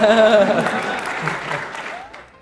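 Audience applause at a live speedrun marathon event, a burst of clapping mixed with a voice talking over it near the start, fading out toward the end.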